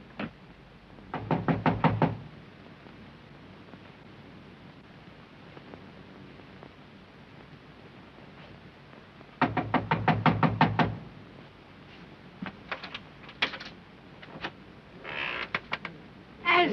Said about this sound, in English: Knock on it.